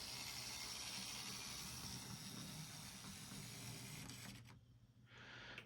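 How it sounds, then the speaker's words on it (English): A Lindsay stubby short-wheelbase switcher model train rolls through newly installed turnouts, a steady close mechanical whir and hum that drops away sharply near the end before briefly returning. "I thought I'd give it a little test with the Lindsay stubby switcher there. So let's see how this does going through."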